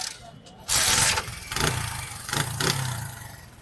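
A 2022 Super Power motorcycle at a Karachi used-bike market is started and revved, with a sharp burst of engine noise followed by several shorter throttle blips, close by with people talking nearby.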